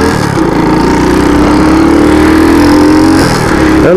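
A Honda Biz ES 125 motorcycle accelerates up close with a loud, continuous engine drone whose pitch climbs steadily before easing off near the end.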